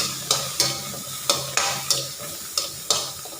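Chili, garlic, shallots and young galangal stir-fried in a pan for Lao vegetable soup, a constant sizzle broken by regular sharp scrapes of the spatula roughly every third of a second, close up with no voices.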